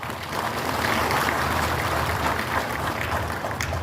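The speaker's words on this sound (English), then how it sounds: "That calls for a big round of applause" A large crowd at a Trinamool Congress political rally in Tura, Meghalaya claps and cheers in a dense, steady roar that stays loud for the whole stretch.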